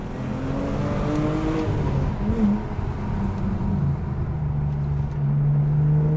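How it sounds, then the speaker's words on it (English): A supercharged BMW E46 M3 engine drones steadily from inside the cabin, its pitch rising and falling with throttle, carrying a prominent induction whine from the supercharger. "Induction noise."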